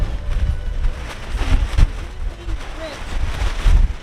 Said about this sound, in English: I don't even know how well this microphone is gonna pick up my voice because the wind is so bad.